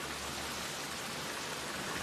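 Steady heavy rain falling during a film scene where a car has a flat tyre on the road, a dense even hiss with a low rumble underneath and no voices.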